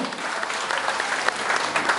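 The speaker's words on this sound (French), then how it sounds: "Elle est venue accompagner Madame Sam Fantakaba, que je vous demande d'applaudir très fort." A crowd claps loudly and continuously, dense applause filling the whole moment with no pause.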